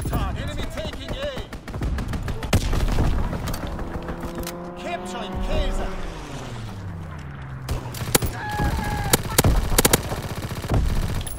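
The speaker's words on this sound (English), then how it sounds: "Fighter pilot inbound, strafing the target." Machine-gun fire from a fighter plane's strafing run in a multiplayer shooter, loud rapid bursts mixed with engine drone and other gunfire and explosions, with players talking over it.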